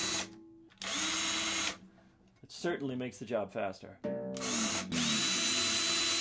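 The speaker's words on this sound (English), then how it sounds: "It is a string winder that you attach to an electric drill." A guitar string winder attached to an electric drill whirs loudly in two long bursts as it loosens guitar strings, with a person talking in the gap between the bursts.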